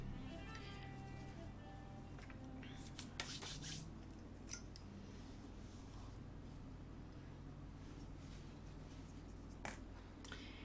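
An X-Acto craft blade cutting around a pastel drawing on Pastelmat paper gives faint, steady scraping and rasping, with a few sharper scratchy strokes in the middle and near the end.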